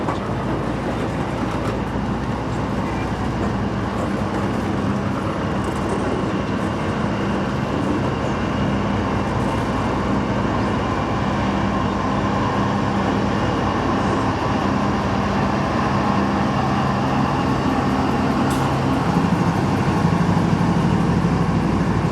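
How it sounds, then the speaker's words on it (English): A long freight train rolls steadily past on railroad tracks, a continuous loud rumble and clatter of wagons holding at a constant level throughout with no pauses. "But we'll wait and see till the end of this train gets here."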